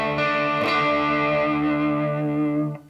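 A distorted electric guitar strikes a single power chord and lets it ring, loud and buzzing, for a few seconds before it is cut off, with no voices.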